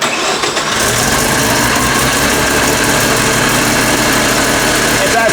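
Mazda RX-7 rotary engine running steadily at about 2200 RPM, a loud, close, continuous buzzing drone that holds an even pitch throughout.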